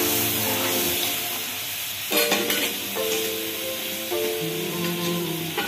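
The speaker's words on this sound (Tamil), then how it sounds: "இந்த மாதிரி நல்லா கிண்டிக்கிடுங்க." Caramel being stirred in a pan with milk and coffee powder over low heat for coffee candy: a steady soft sizzle and scraping stir runs throughout, with brief louder clinks and scrapes.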